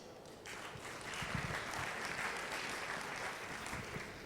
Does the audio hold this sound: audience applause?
yes